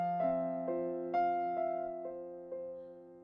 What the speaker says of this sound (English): we're going to do that run going into this lick